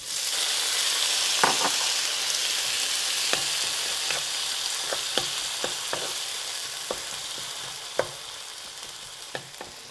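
Thinly sliced onions and semi-frozen tomatoes fry in a pan over medium-high heat, a loud continuous sizzle punctuated by occasional utensil clicks and scrapes as the mixture is stirred.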